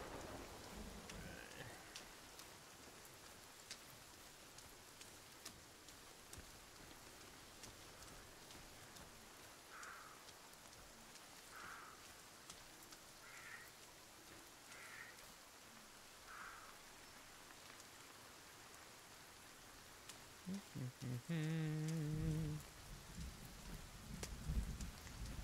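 Steady rain patters through a thunderstorm while soft rumbles of thunder roll in the distance, faint and continuous, with a few brief tonal sounds and louder bumps toward the end.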